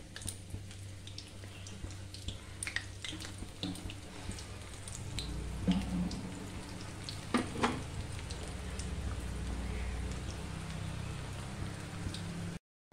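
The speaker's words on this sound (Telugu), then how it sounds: "కోఫ్తాలు వేసుకుంటున్నాను. సిమ్లో వేయించుకోవాలి." Koftas fry on a low flame for a cabbage curry, giving a steady, rain-like crackle of oil that sits close and even for the whole stretch, with a few louder pops and scrapes of stirring partway through.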